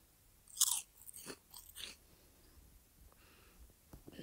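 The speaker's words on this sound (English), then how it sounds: "she's gonna try those yummy cookies" Biting and chewing into homemade Valentine's Day cookies: a sharp crunchy bite followed by several soft, close chewing crunches that fade into quieter mouth sounds.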